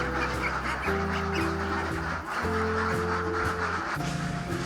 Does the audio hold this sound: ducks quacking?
yes